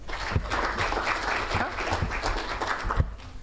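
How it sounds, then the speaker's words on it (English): A room full of people at a swimming and diving banquet applauds the team's swimmers, a steady, fairly close burst of clapping with a few sharper claps. "One big round of applause for these ladies."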